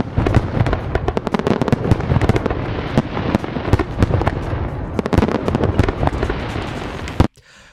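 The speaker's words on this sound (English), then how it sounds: "So good that I think it deserves some fireworks." A continuous barrage of fireworks bursts and crackles, loud and dense for about seven seconds, then cutting off abruptly into near silence.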